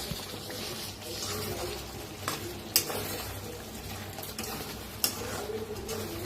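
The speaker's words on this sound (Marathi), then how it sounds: "आता जरा मिक्स करून घेऊया." A spoon stirs stuffed bell pepper curry thickened with roasted gram flour in a sizzling pan, with intermittent scraping and a few sharp metallic clinks over a soft, steady frying hiss.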